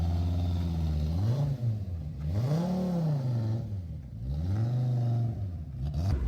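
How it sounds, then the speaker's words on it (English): A Group B Audi Quattro rally car, an A2 built as a Group 4 car and rallied from new with genuine 1980s rally parts, drives past close and loud, its engine revving up and down in three strong rising and falling sweeps. "Me and Mr. Hanlon going out for a little test drive in the A2 Group B Audi Quattro."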